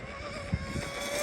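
Proboat UL19 RC speedboat with a Tenshock 2240 motor and Castle Hydra X controller at full throttle, a steady high electric whine holding near and loud with a brief thump of water.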